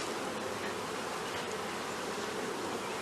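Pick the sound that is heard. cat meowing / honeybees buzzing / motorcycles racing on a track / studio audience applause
honeybees buzzing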